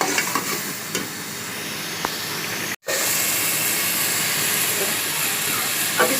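Minced mutton qeema with potatoes fries in a pan, with a continuous loud sizzle and occasional spoon scrapes as it is stirred, briefly cut to silence midway before the hiss resumes up close.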